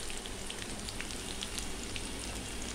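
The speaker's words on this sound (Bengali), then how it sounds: "মাকে ডালটারে লাল লাল করে ভেজে নিতেছি" Mung dal frying in hot oil in a home kitchen pan, a steady dense sizzle with scattered crackling pops, close and even throughout with no talk.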